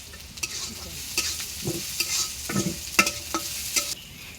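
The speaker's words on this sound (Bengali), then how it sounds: "ঢেঁড়স ভাজবো এখন" Okra sizzling and frying in a pan with onion and cumin, with a steady hiss broken by repeated close scrapes and stirring knocks, no voices.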